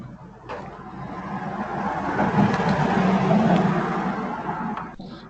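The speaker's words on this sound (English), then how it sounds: "That was a car." A car passing outside, a smooth engine and tyre rumble swelling to a peak mid-clip and fading away, heard alone at moderate distance.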